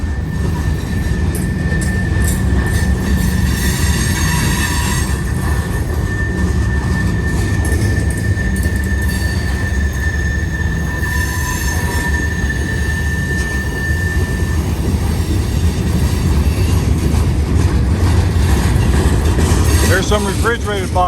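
A long freight train with refrigerated boxcars and TTX cars rolls past close by, a loud continuous rumble and clatter of wheels on rail with a steady high whine from the wheels, while a person talks over it.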